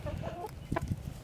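Chickens let out a few soft, close clucks in quick succession on a homestead, quiet and alone with no talk.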